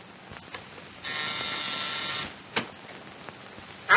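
An old telephone in a 1942 crime comedy film gives one buzzy, harsh ring lasting about a second, heard alone against a quiet background with a few faint clicks around it.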